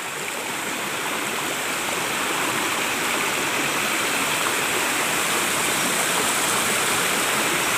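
Steady rushing of stream water flowing over rocks, a constant broadband wash with no pauses, close and fairly loud, no voices.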